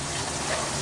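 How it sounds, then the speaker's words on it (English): Rain beginning to fall outdoors over a spring container garden, a soft, steady hiss of drops heard close and alone for a brief moment. "the rain's coming, you guys, I'm trying to hurry with this"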